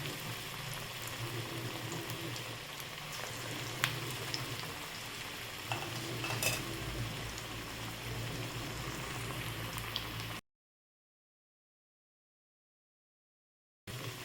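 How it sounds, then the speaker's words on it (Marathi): Urad dal vadas deep-frying in hot oil, giving a continuous crackling, bubbling hiss at moderate level with a few sharper pops, then a stretch of silence before the frying resumes. "तर हे तेल आता गरम झालेलं आहे यामध्ये आपण हे वडे तळून घेणार आहोत"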